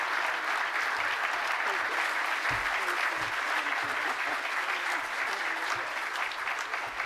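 An audience at a golden anniversary founders luncheon applauds steadily, a dense, even wash of clapping from many hands that holds for several seconds at moderate distance.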